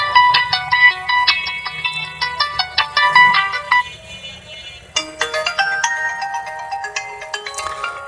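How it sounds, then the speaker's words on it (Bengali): A Walton S35 phone plays its built-in ringtones: a bright, bell-like synth melody of quick repeating notes, then after a short gap a second, fuller tune. Both are loud and clear, with no talking. "এই ফোনটির রিংটোন একটু শুনবো বরাবরের মতো, যে ফোনটির রিংটোনের সাউন্ড কতটা ছিল।"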